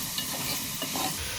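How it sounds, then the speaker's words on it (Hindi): Potatoes frying with meat for aloo gosht, soft sizzling under scraping stirring strokes in the pan, close and brief. "आलू डाल के इसको 2 मिनट भूनेंगे।"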